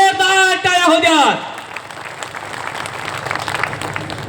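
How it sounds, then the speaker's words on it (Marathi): A crowd at a political rally in Phaltan claps for Maharashtra's rural development minister Jaykumar Gore, a broad steady wash of applause rising after a loud announcer's voice over a PA, sustained for several seconds. "भाऊंसाठी जोरदार टाळ्या होऊ द्या"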